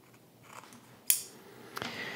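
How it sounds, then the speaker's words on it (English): Utility scissors cut through a zipper while a backpack is being sewn, producing two sharp, close crunching snips about half a second apart over a faint room hum. "when you see me cut through these zippers, this is a pair of utility scissors"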